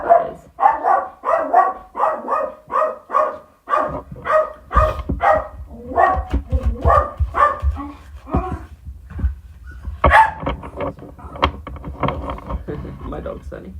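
A dog barks in a rapid run of sharp, loud yips and woofs close by, with a short pause and then further bursts of barking and whimpering noises through the rest of the stretch.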